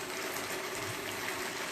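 Risotto with wild mushrooms and Cornish Blue cheese bubbling in a pan, a steady dense hiss and simmer filling the whole clip, fairly loud and constant, with no talk.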